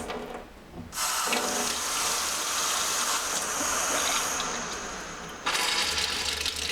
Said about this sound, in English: you can see when I run the water and I turn it on the filter